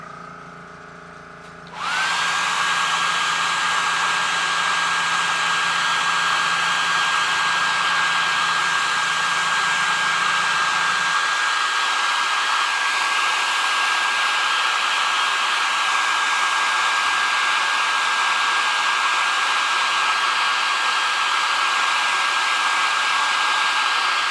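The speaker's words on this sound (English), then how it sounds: "now we're going to grab the hair dryer" A hair dryer switches on and blows with a loud, steady whining roar that continues without a break for over twenty seconds.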